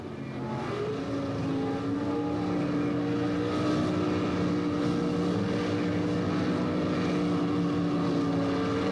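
Pro Stock drag racing cars, a 1977 Chevy Monza and a 1977 Mustang, roar together at the start line in a loud, sustained engine drone with steady, layered harmonic tones throughout.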